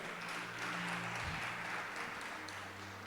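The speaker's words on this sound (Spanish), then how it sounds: "Le da palmas al Señor." A church congregation claps during a sermon, a soft, even wash of many hands heard from a distance across the hall, steady for a few seconds with a low hum underneath.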